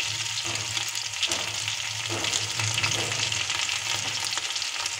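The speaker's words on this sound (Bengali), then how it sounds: "যে তেলের মধ্যে মাছ ভেজেছি সেই তেলের মধ্যে আমি দিয়ে দিচ্ছি জিরে ফোড়ন, দিয়ে দিচ্ছি আদা, দিয়ে দেবো রসুন" Cumin seeds, ginger and garlic fry in oil left over from frying fish, giving a steady, close crackling sizzle with the occasional scrape of stirring and no voices.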